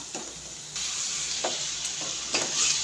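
Country chicken pieces frying in a hot pan, a continuous close sizzle with a few short scraping or clattering bursts of stirring, no voices.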